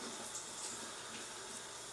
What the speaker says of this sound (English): I actually run the hot water in the tub now that it's clear, just to clean off the tape.